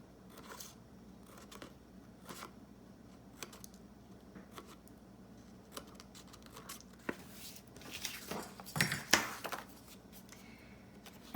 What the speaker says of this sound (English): I take my scissors so that it will fit in my Happy Planner and just kind of cut like that